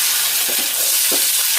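Garlic sizzles in hot oil in a pan for a Telugu bitter gourd curry, a steady close frying hiss with faint stirring, and no voices.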